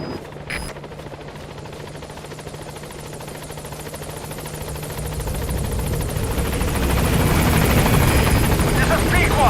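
A helicopter in Metal Gear Solid V arrives at a landing zone, its rotor drone swelling steadily louder as it closes in, with voices heard over it.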